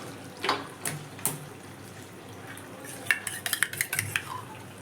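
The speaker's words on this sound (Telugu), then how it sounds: "ఇప్పుడు ఒకసారి కలుపుకుందాము చికెన్." A spoon stirs cashew chicken masala curry in a pot, giving a few scattered clinks and scrapes against the metal, then a quicker cluster of clattering knocks near the end over a faint steady background.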